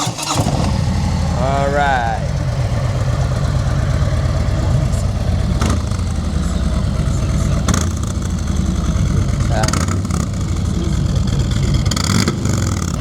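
Harley-Davidson Tri Glide three-wheel motorcycle engine cranking over and catching, then settling into a loud, steady rumble with a few sharp revs, close by, with brief talk over it.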